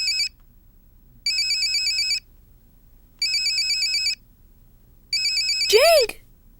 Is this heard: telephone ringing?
yes